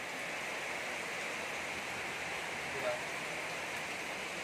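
Heavy rain pours in a steady, even hiss of dense broadband noise at moderate level for the whole stretch, with no clear breaks.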